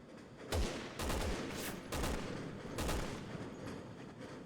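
Several sniper rifle shots in Resident Evil 6 crack out as sharp, booming reports at irregular intervals, each with a short tail, fairly faint overall and without talk.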